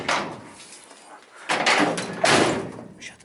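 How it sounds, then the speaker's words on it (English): A door is shut in a garage workshop, with a couple of muffled thuds and rattling bangs, fairly close, with no talk over it. "Shut the door."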